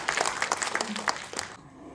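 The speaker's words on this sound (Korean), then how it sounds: "네, 여러분 박수 부탁드립니다." An audience at a book launch event bursts into lively applause that stays full for about a second and a half, then cuts off abruptly, leaving a faint room tone.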